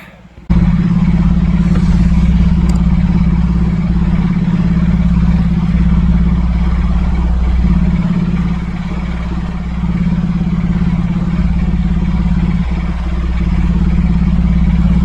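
The engine of a cherry picker runs at a steady, loud idle with a low droning hum and slight clatter, close by and continuous throughout, with no talking.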